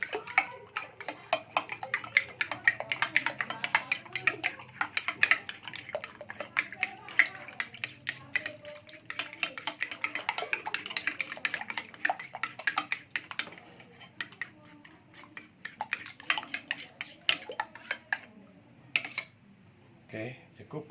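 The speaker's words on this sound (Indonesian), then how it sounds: "Lalu telurnya 2 butir kita aduk-aduk ya." Two eggs are whisked in a bowl with a utensil, giving a fast, steady clatter of light tapping that runs for about twenty seconds before slowing near the end. The sound is close and moderately loud.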